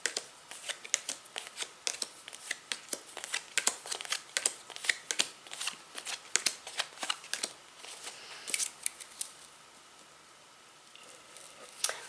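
Someone shuffles a deck of cards for a tarot-style reading, with crisp riffling and flicking close to the listener in an irregular rhythm of quick bursts over about ten seconds, then a quiet pause and a few softer snaps.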